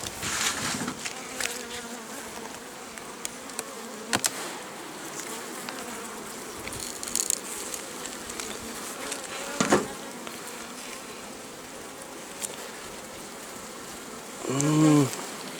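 Honeybees from an August swarm buzz close by at an apiary, working autumn buckwheat, in a soft, steady drone with individual insects whining past louder now and then.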